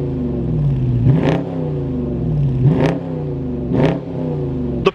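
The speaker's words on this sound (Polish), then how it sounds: "I gaz do 4000 obrotów." A Dodge Challenger T/A V8 revved repeatedly toward 4000 rpm from idle, three loud, close throttle blips, each rising to a sharp roar and falling back to a deep, lumpy burble, evenly spaced about 1.5 seconds apart.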